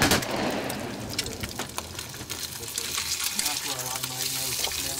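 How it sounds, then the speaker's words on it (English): Sweet rolls, eggs and sausage sizzling in a pan at a duck hunt, a steady close frying crackle opened by a sharp clank and scattered pops. "he's cooking up some delicious sweet rolls along with mouth-watering egg and sausage"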